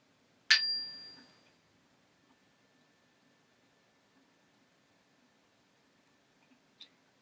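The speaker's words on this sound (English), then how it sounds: "we'll begin and end with a ding of the bell" A meditation bell rings once with a clear, bright ding that slowly fades into near silence, then a faint short tap follows a few seconds later.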